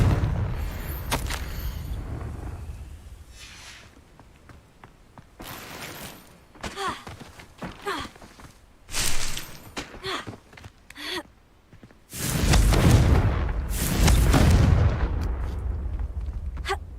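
In the video game Hogwarts Legacy, a Confringo blasting spell goes off with loud, booming bursts of explosive noise late on, after quieter scattered game sounds and breathy effects.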